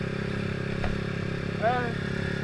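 A KTM RC390 motorcycle engine hums steadily at idle in the background, with a brief rising whine partway through, while people talk over it.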